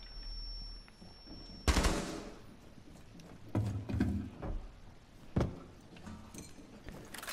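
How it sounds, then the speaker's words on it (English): Gunfire in Rainbow Six Siege comes as scattered sharp bursts, with one loud crack early and several quieter volleys after it, mixed with mechanical clicks and rattles from the game. "Gunfire. Gunfire. Up above."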